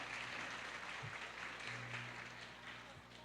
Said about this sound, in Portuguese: Mas vamos aplaudir o SCC da nossa paróquia